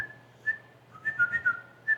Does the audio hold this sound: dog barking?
no